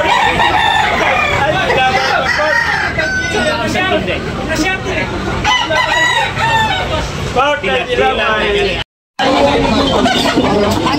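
Roosters crow repeatedly at a busy chicken market in Tabunok, Talisay, loud and close, with several overlapping crows over steady crowd chatter and a seller talking throughout.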